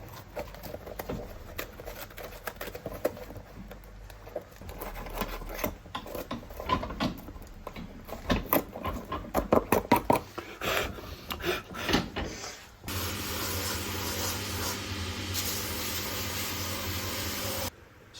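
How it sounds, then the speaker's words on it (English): Old, very dry cork being pushed out of a shoe during a repair: a stretch of close scraping, crumbling and rasping with irregular knocks, followed by a steadier, denser grinding rasp. "So this is very dry. We'll just push it out."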